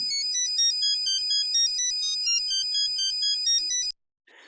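An old cell phone plays a ringtone of the Bach Toccata and Fugue subject as a string of bright, clear electronic beeps in a fast melodic run, then cuts off abruptly into silence.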